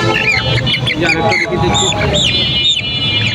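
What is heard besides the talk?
Aseel chicken chicks at a market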